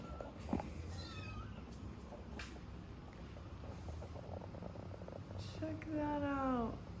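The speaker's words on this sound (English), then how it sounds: "Oh, we have a kitten on the loose." A loose kitten meows inside a pole barn house under construction, with a short cry early and a louder drawn-out meow near the end over faint room noise.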